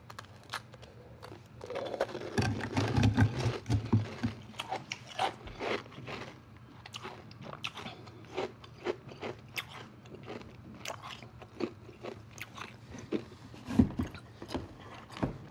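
Igloo ice pieces stuck together are bitten and chewed up close, giving steady crisp crunches and crackles with louder bites around the third and fourteenth seconds, with no talking.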